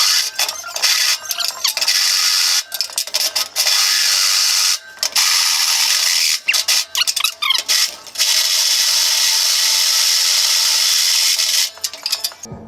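A step drill bit enlarges a hole to half an inch in the steel frame of a Harbor Freight motorcycle lift, a harsh, high grinding whir running in long close bursts broken by several brief pauses, with no talking.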